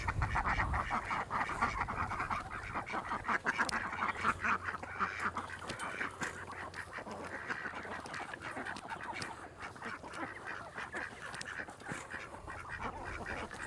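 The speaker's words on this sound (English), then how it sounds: "All right, ducks, we want some fresh grass here." Ducks quacking in a backyard garden, a busy run of repeated nasal quacks and honks, fairly close and steady throughout with no talking.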